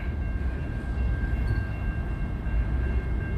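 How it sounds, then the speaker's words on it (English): A train rolls past outdoors, giving a steady low rumble of wheels and cars with a faint sustained tone above it, continuous and fairly close, with no voices. "I never saw that type of train here before"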